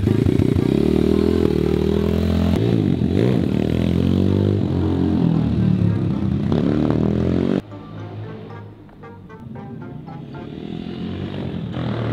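A mini GP motorcycle engine buzzes loudly and steadily with shifting revs, then drops in level and thins out toward the end, with no talking over it.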